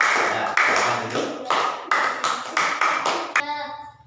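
Classroom of primary school students clapping hands together in a rhythmic group clap, a series of sharp bursts that ends with a brief tone-like ring as it stops.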